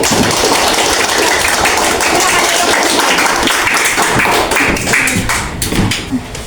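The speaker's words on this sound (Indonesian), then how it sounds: "jadi tepuk tangan buat teman kalian yang ada di depan yang sudah mempresentasikan jawaban masing-masing" A seventh-grade classroom bursts into applause, many hands clapping in a loud, dense, sustained burst that thins out toward the end.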